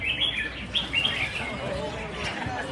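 Competition songbirds on the stand give bright chirps and short trills against a noisy crowded background, with murmuring voices mixed in.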